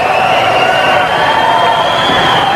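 A loud, sustained roar rises from the crowd at an Olympic ice hockey game between Czechoslovakia and the USA, a dense continuous wall of cheering with no breaks.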